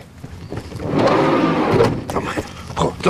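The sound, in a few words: car being locked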